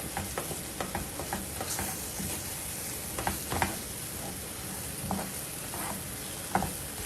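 Vegetables in butter sizzle in a pan on low-to-medium heat while being stirred and coated with flour, a steady close crackle broken by repeated scraping and stirring clicks, no voices.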